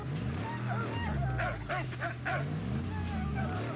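A dog in the post-apocalyptic game Mad Max yaps and whimpers in a short run of barks over a low engine hum, with someone talking alongside.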